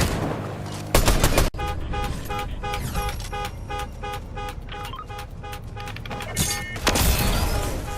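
Video game gunfire rattles in rapid automatic bursts and single shots, loud and close, with a sharp burst near the start and another near the end, under a busy game backdrop.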